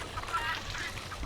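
Geese on a small farm with ducks nearby, honking in a brief close cluster of nasal calls over outdoor background noise.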